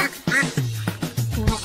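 A white duck quacks in a series of short, nasal calls, several in a row with brief gaps, loud and close in a children's farm animal song.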